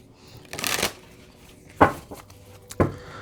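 A Moonology oracle card deck is shuffled in three distinct bursts, the first a longer riffle and the next two shorter, crisp and close, with no talking.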